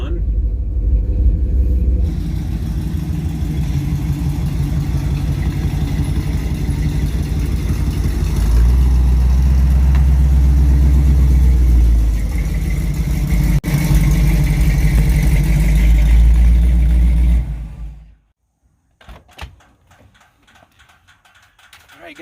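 A two-wheel-drive 1975 Chevrolet K5 Blazer with a 454 V8 rolls up to a house, a deep engine rumble that shifts and swells before cutting off abruptly, with brief clicks and quiet afterward.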